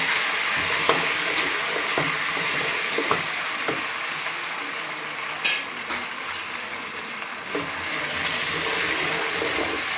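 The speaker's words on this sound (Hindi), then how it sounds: "हम इसको 2 से 4 मिनट तक फ्राई करेंगे, जिससे कि इसकी स्मेल ख़त्म हो जाए।" Ginger garlic paste sizzles and spatters in a hot pan with oil, a steady close crackling hiss with occasional scrapes of stirring and no talk.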